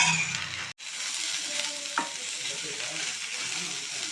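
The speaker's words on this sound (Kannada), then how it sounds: "ರೀತಿ ಬೆಂಡೆಕಾಯಿನ ಸ್ವಲ್ಪ ಸ್ವಲ್ಪನೇ ಎಣ್ಣೆ ಹಾಕಿ ಚೆನ್ನಾಗಿ ಲೋಳೆ ಅಂಶ ಎಲ್ಲ ಹೋಗೋವರೆಗೂ ಇದನ್ನು ಹುರಿದಿದ್ದೀನಿ" Okra sizzles in oil in a pan for dhaba-style bhindi fry, a continuous bright crackle with a brief cutoff near the start and occasional scraping stirs and clinks of the spatula; no voices.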